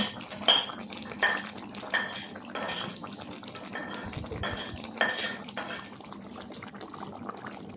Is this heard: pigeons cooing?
no